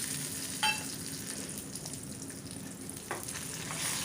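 Cashews and raisins fry in hot ghee for sweet pongal, a continuous close crackling sizzle with a couple of small pops, no voices.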